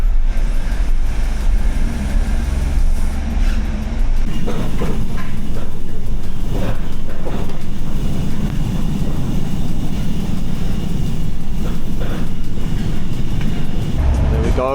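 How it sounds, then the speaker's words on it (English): A Channel Tunnel shuttle train carrying vehicles, with a van holding three motorbikes aboard, gives a steady loud low rumble and rolling drone heard from inside the vehicle, continuous throughout with no talking. "We are entering the train."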